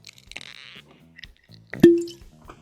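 A cork pops out of an Old Grand-Dad 7 bourbon bottle, a single sharp pop with a short resonant tail after some faint handling noises.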